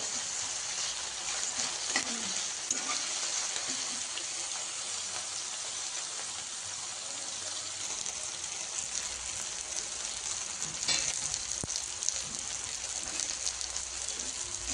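Upma ingredients fry in a pan, making a soft, continuous sizzling hiss that stays low and even throughout, with a few faint crackles and no voices.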